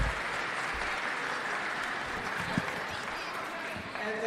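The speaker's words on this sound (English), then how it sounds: "So go ahead and give them a round of applause" Audience applause for students at a school spring concert, a dense, steady wash of clapping from a large crowd, sustained throughout, with a voice faintly mixed in.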